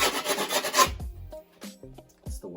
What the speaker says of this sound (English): get ready for the worst noise in the world when I file this thing down